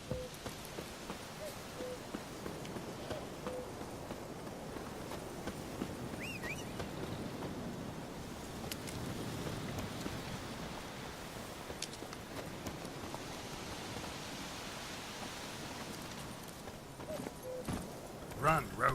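Horse hooves gallop in The Witcher 3 video game, a rapid clip-clop rhythm running steadily under ambient game sounds while a player talks over it.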